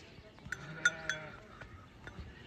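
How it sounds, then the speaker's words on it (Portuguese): A flock of sheep bleats while being driven out to pasture in the dry sertão of northeastern Brazil. Several overlapping bleats of varying pitch ring out at close to medium range amid faint outdoor shuffling. "Então vamos botar as ovelhas pra roça."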